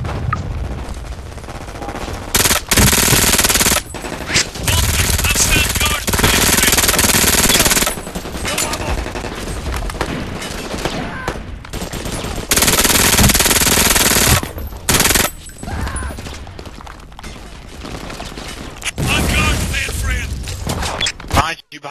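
Machine gun fire in the video game Brink during a heist mission, near-continuous loud automatic bursts with brief gaps, joined by shouted voice lines from players.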